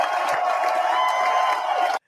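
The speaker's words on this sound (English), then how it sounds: "Give her a big round of applause," A studio audience cheers and whoops as a guest is brought on for a talk-show segment, a steady loud crowd roar that holds for about two seconds and then cuts off abruptly.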